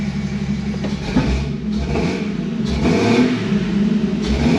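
A 1995 Jeep Wrangler's 4.0 engine runs close by with a steady rumble, rising and falling through several revs.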